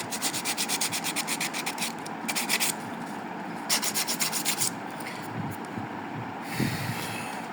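Rapid rhythmic rubbing on an interior panel of a 1989 Toyota Crown under restoration, heard up close in bursts of fast back-and-forth strokes with short pauses and no speech.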